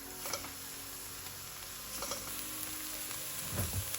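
Pureed onions and chilies cooking in a pan for butter chicken, a faint steady sizzle with a few soft ticks and pops, heard close and quiet.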